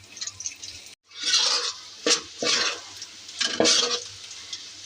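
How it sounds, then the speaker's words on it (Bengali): Onions frying in a pan with garlic, dried chillies and bay leaves, sizzling in bursts as they are stirred, with hissy surges and short quiet gaps, close and moderately loud with no talking. "এখন ভাজবো ভালো করে।"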